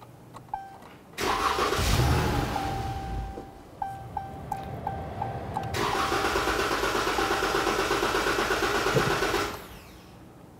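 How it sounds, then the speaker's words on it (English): A 2011-2023 Dodge Charger 3.6L V6 cranks and starts, then runs at a steady idle with a rise in engine level partway through before shutting off near the end. A repeated chime beeps early on, and no one talks. "Our next step is to hop into the vehicle, and we're going to start it. I'm going to let the vehicle run until the fuel pump system drains of fuel."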